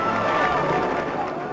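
A crowd cheers steadily and loudly as a cavalcade of cars led by a bishop arrives, the roar dense and continuous, tapering slightly at the end.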